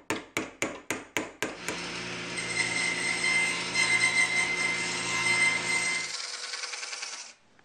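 A small nail is tapped in as a key on a shaft for a homemade belt sander, with about six sharp, evenly spaced hammer strikes up close, then a steady tool whine that holds for several seconds and stops.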